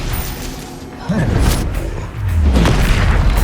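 Confringo blasting spell explosion in Hogwarts Legacy, a deep booming blast with a low rumbling tail, then a second heavier boom swelling in under game effects.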